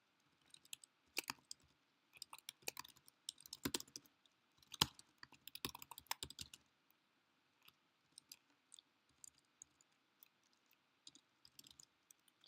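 Fast typing on a computer keyboard, close and quiet, with bursts of clicking keystrokes that thin out into sparse taps toward the end.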